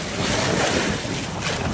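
Ocean waves slosh and roar around a small fishing boat out at sea during net fishing, a loud, continuous wash of water mixed with heavy wind buffeting close to the microphone.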